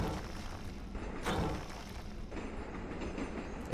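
Minecarts roll along rails in the factory-building game Automation Empire, giving a steady rumbling clatter with a heavier thump midway, continuous and fairly close with no talk.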